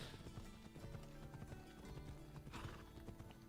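Horse hooves clip-clopping at a quick, steady trot in the video game Assassin's Creed Odyssey, faint, with a rapid irregular rhythm and no talking.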